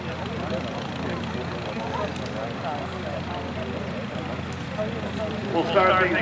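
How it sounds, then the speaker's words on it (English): Golden age biplanes taxi at an airfield before a World War I airshow, their propeller engines a steady, moderately loud drone that swells slightly near the end, with a crowd and announcer talking over it. "our golden age biplanes ready to open up our show. They'll be taxiing up this way momentarily"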